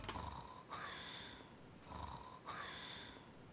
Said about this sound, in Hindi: खर्राटे ले रहा था जैसे कभी सोया ही ना हो